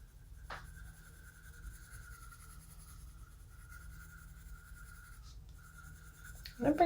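Colored pencil scratching steadily across paper while filling in a floral coloring page with daffodils, a soft continuous rasp near and close, briefly broken and ending with a louder rustle.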